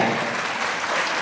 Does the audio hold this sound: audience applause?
yes